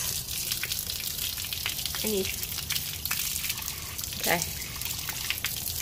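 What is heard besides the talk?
water running while rinsing mouth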